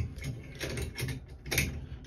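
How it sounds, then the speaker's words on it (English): A handle puller grips and works a shower faucet handle off a Gerber three-handle tub and shower valve, producing quiet clicking and ratcheting metal sounds in short bursts. "Handle puller."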